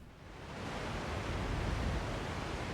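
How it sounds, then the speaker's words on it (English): A waterfall roars in the background in the racing game Forza Horizon 6, a broad, steady rushing wash that swells slightly at the start and then holds, alone without talk. "roar of the waterfall in the background."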